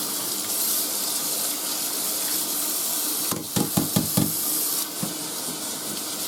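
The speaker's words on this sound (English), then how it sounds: "Just rinse it down the drain." Tap water runs steadily into a sink, rinsing leftover eggshell foam down the drain. A few soft knocks and splashes break through the constant gush partway through.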